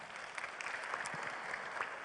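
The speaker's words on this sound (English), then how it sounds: "Applause for him." Applause from a conference audience for a speaker being introduced. It is faint and steady and lasts the whole short moment without a pause.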